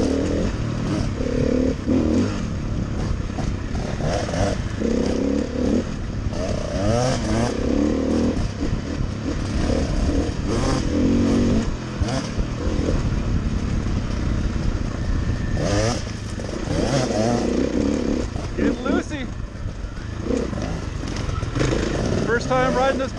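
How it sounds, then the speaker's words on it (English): A 2017 KTM 300 XCW two-stroke dirt bike is ridden on an off-highway trail, its engine buzzing and revving continuously up close while a person talks over it. "riding this bike, 2017 KTM 300 XCW two-stroke"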